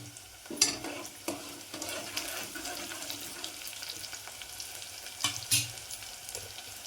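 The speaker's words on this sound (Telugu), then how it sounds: "పచ్చిమిరపకాయలు అయితే వేస్తున్నాం." Green chillies tossed into a hot pan for homemade chicken curry, a loud burst of sizzling at the start and again near the end, with stirring between.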